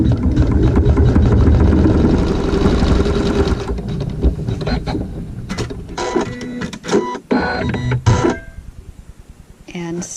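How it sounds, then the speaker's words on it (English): Sewing machine stitching a fabric seam for a log cabin triangle quilt block: a fast, steady mechanical whirr for several seconds, then shorter start-stop bursts of stitching as it slows, close and clear. "we're going to sew a seam here"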